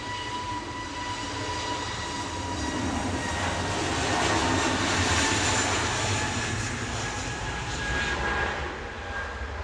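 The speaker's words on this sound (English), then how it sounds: "EasyJet departing now" An EasyJet airliner departing Manchester Airport, a broad, steady jet engine roar that swells toward the middle and then slowly eases, heard from a distance with a constant high whine.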